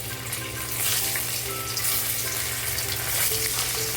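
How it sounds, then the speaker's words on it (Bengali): Loud, close sizzling of paneer frying in hot oil, a continuous crackling hiss with faint stirring sounds and no talking. "এখন আমি পনিরগুলো ভেজে নেবো প্রথমে"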